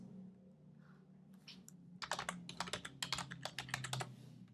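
Keys clatter on a computer keyboard while someone types in Xcode, a quick burst of close, crisp clicks following a quieter pause, over a low background hum.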